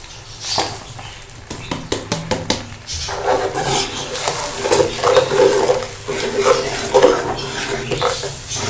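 Tomato paste and spices dropped into a hot pot for dhaba-style daal, starting with a few metallic clinks of a spoon on the pot, then a steady loud sizzle and crackle of frying.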